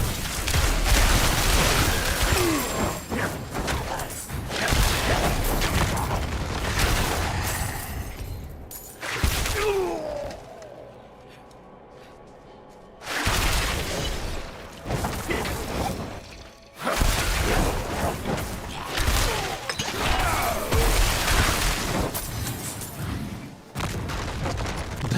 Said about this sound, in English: Those little explosions that follow me are kind of annoying.